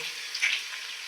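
Garlic and spices frying in a pan for stuffed bitter gourd curry, a soft steady hiss throughout this short moment, close but fairly quiet.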